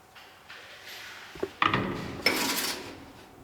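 Plates and utensils clink and scrape on a counter while a fine dining dish is plated, with a few close, sharp knocks and rattles over a quiet kitchen background.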